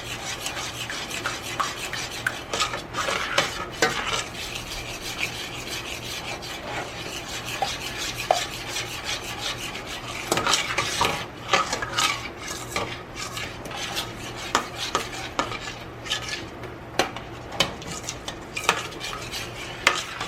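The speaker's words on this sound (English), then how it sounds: "Stir." Spoon scraping and stirring thick mac and cheese sauce in a pot, steady rubbing and clinking strokes continuing close up for the whole stretch with no talk.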